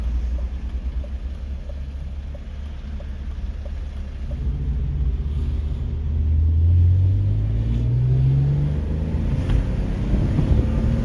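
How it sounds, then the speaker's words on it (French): A BMW 328i E36 inline six-cylinder engine runs with a steady low rumble throughout, its pitch rising smoothly partway through as the revs climb, then holding at a higher, fuller drone. "le bruit du 6 cylindres en ligne, il est vraiment majestueux"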